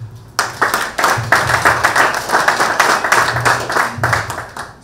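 An audience at a ministerial address applauds the national team, a steady patter of clapping close by with uneven bursts, lasting a few seconds without speech.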